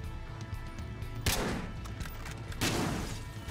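Two loud, sharp gunshots ring out in the video game Battlefield Hardline, spaced more than a second apart, over a steady background of in-game noise.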